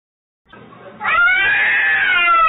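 A pet cat gives a long, drawn-out meow close to the microphone, starting softly and swelling into a loud, wavering cry that holds to the end.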